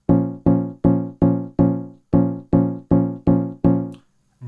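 Synthesizer notes passed through a low-pass filter with resonance and drive, nine plucky, harmonically rich hits in a steady rhythm, each decaying quickly, played alone and fairly loud.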